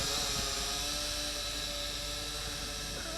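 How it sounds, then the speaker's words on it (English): An SJRC S70W GPS quadcopter drone climbs under throttle, giving off a steady high buzzing whine of its rotors at close range with no talking. "Applying throttle, going up higher."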